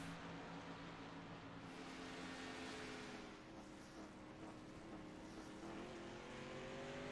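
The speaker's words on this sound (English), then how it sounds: "We got engine noise." A race car engine drones continuously in a simulated stock-car race at Auto Club Speedway, a steady buzzing tone with slowly shifting pitch that holds constant and faint throughout, with no other sounds.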